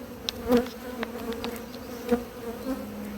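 Honeybee colony in an apiary hive during spring Varroa treatment, a close, agitated buzzing drone with bees darting past in brief louder swells.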